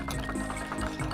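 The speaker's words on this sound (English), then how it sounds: "Okay, that's boiling. I'm gonna give it a little stir." Water at a rolling boil in a pot on a home stove is stirred, giving a steady close bubbling wash with soft liquid sloshes and drips, no talking.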